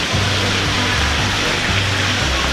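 A waterfall pours into the polar bear enclosure at Toronto Zoo, a steady, loud rushing wash of water with a low rumble underneath that continues without a break.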